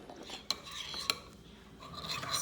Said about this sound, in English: So guys, I'm mixing it right now.